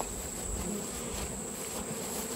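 Dense, steady buzzing of many honeybees and European hornets crowding a syrup feeder, a close, continuous insect drone without voices.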